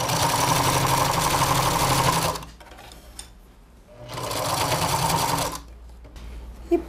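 Sewing machine topstitching a patchwork princess crown, running in two steady, loud whirring bursts of about two seconds each, separated by quiet pauses with light handling of fabric.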